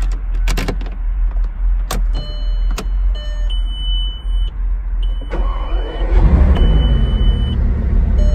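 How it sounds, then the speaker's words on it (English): A Bugatti Veyron's engine fired up by the starter button, heard from inside the cabin: whirring electric motors and clicks first, then a loud deep rumble as the engine catches near the end. "when you do push the starter button, you are greeted by a tremendously distinctive noise from the inside of this car, everything firing up"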